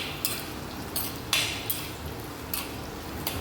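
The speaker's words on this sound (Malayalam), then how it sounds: "നന്നായിട്ടൊന്ന് ഇളക്കി കൊടുത്തോളൂ" A spoon scrapes and clinks against a pan while Kottayam-style sardine curry with kudampuli is stirred, a handful of spaced metallic taps over a steady low bubbling simmer.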